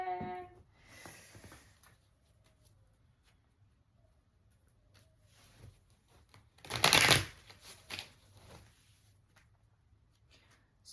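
A deck of cards being shuffled, a short fluttering riffle burst near the middle with lighter card handling and soft shuffles before and after, close and quiet, no talk.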